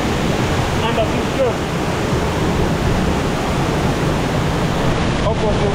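The Nyabomite waterfall, the largest in Nyanza, roars in a loud, dense and constant rush heard up close, with faint voices briefly audible beneath the torrent.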